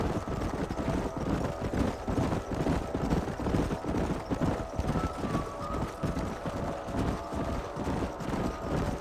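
Horses gallop steadily across open country in the Red Dead Redemption western game, a continuous rapid drum of hoofbeats with faint wind, no voices.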